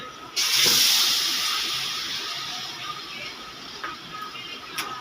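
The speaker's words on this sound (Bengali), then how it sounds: "চাক চাক করে কেটে রাখা বেগুনগুলো আমি ভেজে নিচ্ছি" Round eggplant slices dropped into hot oil in a karahi burst into a loud, sudden sizzle, then settle into a steady hiss that slowly eases, with a few small pops.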